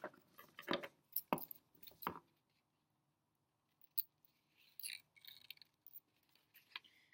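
Scissors cut out paper shapes in a few sharp snips near the start, then a quiet gap followed by softer rustling snips and paper handling, faint and close.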